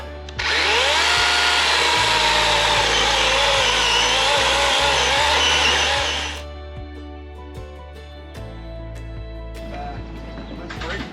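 A chainsaw whines loudly at full cut through green wood for several seconds, then drops to a lower idling drone with low rhythmic thumping underneath.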